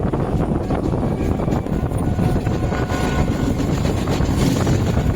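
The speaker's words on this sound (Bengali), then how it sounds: "আমাদের ট্রেন ছেড়ে দিয়েছে" A steady, loud rumble of a moving train on the Hasnabad line in West Bengal, with continuous rattling and wind roar, no breaks throughout.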